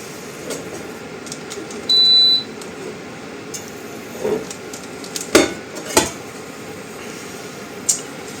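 Pork paupiettes browning in sunflower oil in a pan over medium heat give a steady soft sizzle, broken by a few sharp clinks and scrapes of a utensil against the pan and one brief high beep, with no talking.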